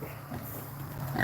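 A registered kunekune sow grunts softly out on a homestead pasture, low snuffling grunts rising slightly toward the end, close but quiet, with no talk.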